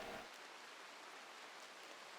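Steady rain hiss from the video game RimWorld, a broad even wash of falling water that stays constant throughout, with no talking over it.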